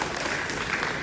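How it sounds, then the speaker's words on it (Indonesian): A crowd gives a quick round of clapping during a speech by the head of the East Kalimantan kurash federation, a dense but very short burst of applause. "Tepuk tangan buat kita semua."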